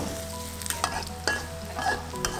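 Garlic and onion fry in a pan during a Thai cooking class in Chiang Mai, giving a steady close sizzle broken by occasional stirring scrapes.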